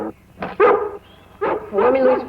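Several sharp barks and yelps from a dog shut behind a window, close and loud, arriving in short bursts with voices nearby.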